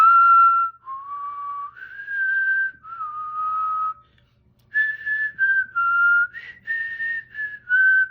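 A person whistles a creepy, wavering melody imitating the killer's whistle from Maniac Cop, clear sustained notes in several phrases broken by short pauses, alone without talk.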